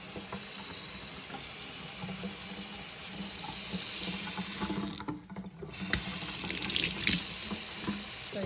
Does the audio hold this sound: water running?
yes